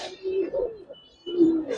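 Giribaz and coloured pigeons at a farm give two bursts of throaty, rolling cooing up close, separated by a short pause.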